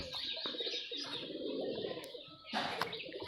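Close pigeon coos at a loft in Rajshahi, soft repeated throaty calls overlapping one another, with a brief rustle or flap near the end.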